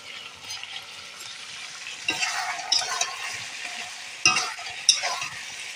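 Tomatoes sauté in a pan with a low, continuous sizzle, broken by several sharp scrapes and clacks as a spatula stirs and turns them close by.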